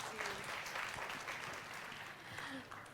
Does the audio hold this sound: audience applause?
yes